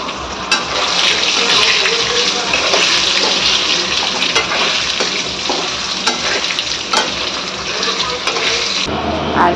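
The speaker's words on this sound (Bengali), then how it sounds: "এবার আলুগুলোকে ভেজে নেব" Potatoes frying in hot oil in a home kitchen pan, a steady loud crackling sizzle running unbroken for about nine seconds with occasional sharper pops.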